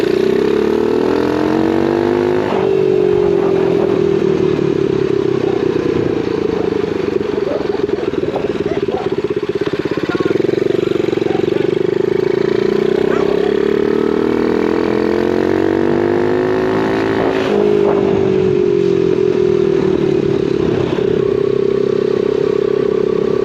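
An X7 Super pocket bike's small engine buzzing steadily while being ridden, loud and close throughout, its pitch rising and falling as the throttle changes.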